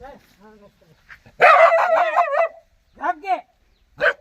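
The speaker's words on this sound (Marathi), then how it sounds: "कुत्रं चावतंय काय भुकतंय ना नुसतं" A dog on a farm barks in several sharp, loud bursts, interspersed with short spoken remarks nearby.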